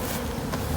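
Honey bees buzz around an opened hive during a mite treatment, a steady close drone filling the brief moment with no talk.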